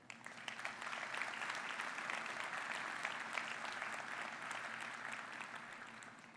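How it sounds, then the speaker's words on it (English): Sustained audience applause at an air cargo industry conference opening plenary, a large hall full of people clapping steadily, rising quickly then holding a dense, even roar for several seconds before easing slightly. "let's give all our sponsors a round of applause for their commitment to the air cargo industry"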